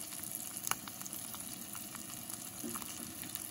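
Trout fillet frying skin-side down in a pan, a steady soft sizzle with faint crackles and pops, close and quiet with no talking.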